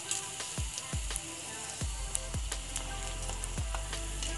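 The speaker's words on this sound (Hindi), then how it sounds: "ताकू मीडियम आंच रे कि स्लो आंच रे ताकू एमती छाणीबे।" Gupchup puris fry in hot oil over a medium-low flame, a steady close sizzle and crackle broken by a few soft bubbling pops as the dough puffs.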